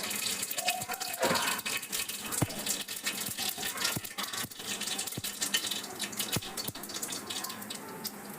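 Mustard and cumin seeds drop into hot oil in a pressure cooker while cooking sambar, giving a continuous crackling sizzle with sharp pops scattered throughout, close and moderately loud, with no talking.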